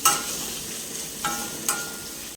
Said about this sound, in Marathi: कांदा तर छान परतून घेऊया